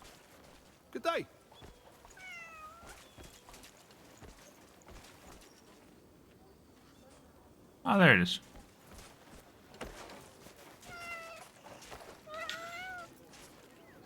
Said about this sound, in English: Now, I did hear a cat.